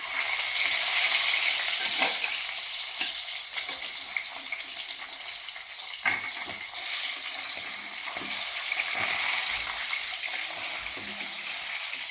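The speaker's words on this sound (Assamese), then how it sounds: "মই এতিয়া মাছৰ মাথাকেইটা ভাজোঁ" Fish heads frying in oil in a pan, a steady broadband sizzle with small crackles and spatters running through the whole stretch, fairly close and loud, with no talk over it.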